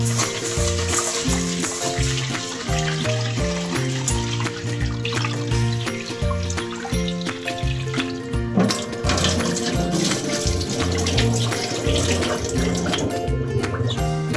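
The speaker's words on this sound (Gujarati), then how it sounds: "આ બધું સરખી રીતે મિક્સ કરીને પાણીથી સરખી રીતે ધોઈ લઈશું" Water sloshing and running close by as lentils are rinsed by hand in water, steady throughout, with music playing underneath.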